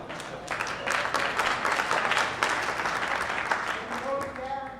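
A NANOG conference audience breaks into a steady, moderately loud wave of clapping and laughter that fades as a speaker's voice returns at the end.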